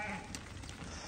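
A sheep bleats faintly once on a farm with a flock of about seventy Arashan and Afghan sheep. The call is short and distant against a low background hum.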